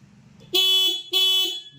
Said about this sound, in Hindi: यहाँ से हॉर्न बजाया